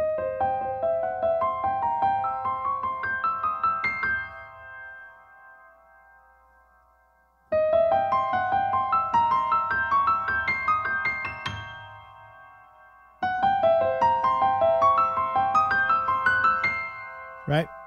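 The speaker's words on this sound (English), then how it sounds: "if I was going to play just in my left hand the black notes" Solo piano plays three rising improvised passages, the left hand on black keys and the right hand on white keys, each ringing for several seconds before a pause, clear and close with no talking.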